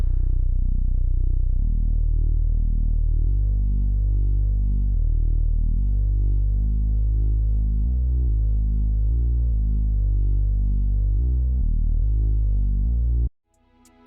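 A deep synth bass line for a drill beat, made with the Sublab plugin, plays alone, its sustained low notes shifting pitch in a steady rhythm before stopping abruptly.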